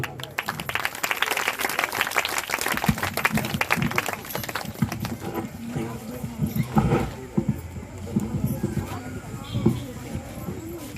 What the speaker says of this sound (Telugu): అందరూ క్లాప్స్ కొట్టి